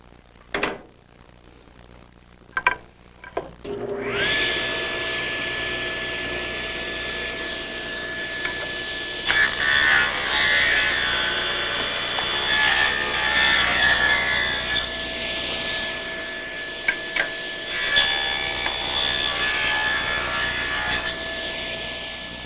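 Table saw cutting compound miters in wood: a few knocks and handling sounds, then the motor spins up to a steady whine with two louder cutting passes as the blade bites through the board, close and loud, no talking.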